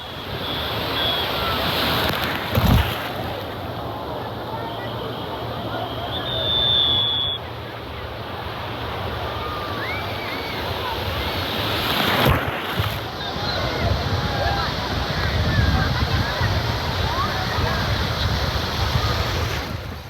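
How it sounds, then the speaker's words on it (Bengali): Sea waves roll and wash steadily onto a crowded Digha beach in the monsoon season, making a continuous broad surf roar mixed with wind noise and the hum of the crowd. "চলে এসেছি একদম সমুদ্র পাড়ে সমুদ্র স্নান করার জন্য"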